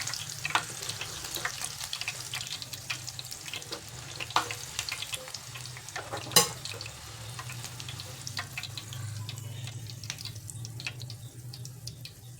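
Green chilies frying in hot oil for Marathi street-style vada pav, a continuous bubbling crackle with scattered pops and a sharp clatter midway, no voices.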